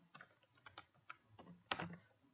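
Code is typed on a computer keyboard as a quiet, close run of uneven clicking keystrokes that ends in a sharper tap, with no speech over it.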